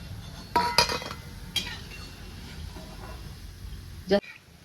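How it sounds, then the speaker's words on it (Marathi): Fried corn pakoda gets lifted out and set onto a plate, with a few sharp metallic clinks and scrapes of utensils against the dish over a faint background hiss. "मी एका प्लेटमध्ये ह्याला काढून घेते"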